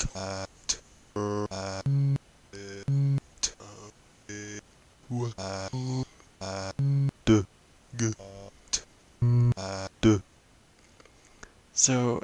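A homemade Java text-to-speech program speaks a typed sentence in a choppy synthetic voice, with clipped, evenly spaced word sounds and short gaps between them, close and clear with no other voices.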